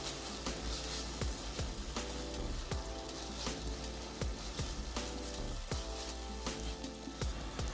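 Canned tuna being stir-fried in a pan, a quiet steady crackling sizzle with frequent sharp little spatters and pops, fairly faint and without talk.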